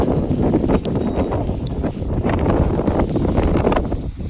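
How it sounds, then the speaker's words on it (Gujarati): Strong wind and rain during a thunderstorm in Talaja, Gujarat, a steady loud roar of gusting air and rainfall that buffets the microphone throughout, with no voices. "અને પવન એટલો છે ને, વરસાદ ચાલુ"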